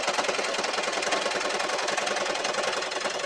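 Sewing machine stitching through two thicknesses of pigskin leather for a tote bag, running steadily with a dense, fast mechanical chatter that stays loud and even throughout, with no voices.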